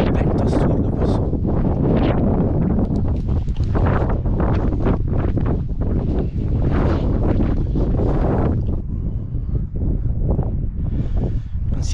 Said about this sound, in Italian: c'è un vento assurdo qua su.